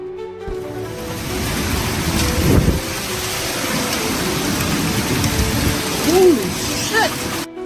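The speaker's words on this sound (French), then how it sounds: "a été balayé par des vents violents, de la grêle et des pluies torrentielles" A violent storm with strong winds, hail and torrential rain in Suffolk, New York, a dense continuous roar of rain and gusting wind with a steady rushing wash throughout.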